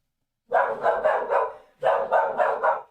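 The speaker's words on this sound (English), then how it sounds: "Oh my god, my dog is freaking out." A dog barks in two quick bursts of three or four sharp barks each, close and loud, with no one talking.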